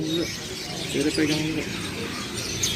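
Birds chirp and coo at the Pramuka bird market in Jakarta, steady twittering with low pigeon-like coos beneath people chatting nearby in a busy outdoor setting.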